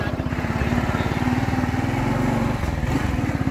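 A small motorcycle engine runs nearby during a cattle roundup. It puts out a steady, buzzing, pulsing drone at medium loudness that barely changes for the few seconds it lasts, with a slight rise near the end.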